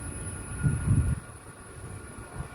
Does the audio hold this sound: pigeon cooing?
no